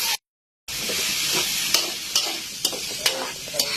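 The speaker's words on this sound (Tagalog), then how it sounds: "Alagaan lang natin sa paghalo para ang karne hindi dumikit sa kawali." Meat for dinuguan frying in oil in a pan until golden brown, with a steady sizzle and sharp spatula scrapes recurring every half second or so after a brief silent gap.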